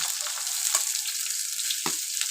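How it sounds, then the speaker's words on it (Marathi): Curry leaves and onion hit hot oil for prawn masala, making a bright, continuous sizzle with a few sharper crackles. "आता मी कढीपत्ता टाकते आणि त्याच्यासोबत कांदा पण टाकते"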